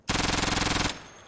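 Rapid automatic gunfire from the Insurgency shooter game rattles in one loud, evenly spaced burst lasting nearly a second, then cuts off to quiet background.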